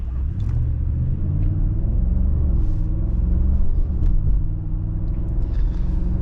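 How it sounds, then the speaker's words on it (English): A 2021 Audi SQ7 Premium Plus with its 500-hp 5-liter twin-turbo V8 gives a deep, sustained rumbling roar that swells slightly midway as the engine pulls, loud and close with no speech. "This 5-liter twin-turbo V8 is absolutely heavenly the way it sounds."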